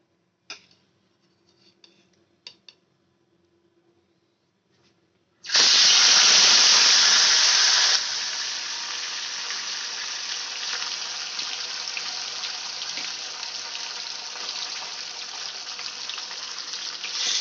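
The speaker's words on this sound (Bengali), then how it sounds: "আমি মাছটা এবার ফ্রাই করে নেব।" Catla fish hitting hot oil in a wok on a gas stove gives a sudden loud, close sizzling burst after a few quiet seconds with small clinks, settling into a steady hissing fry.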